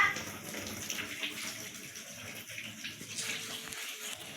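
Water runs steadily from a tap into a container, a continuous splashing hiss with faint clatter underneath, fairly close.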